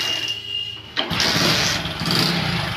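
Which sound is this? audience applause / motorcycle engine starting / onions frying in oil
motorcycle engine starting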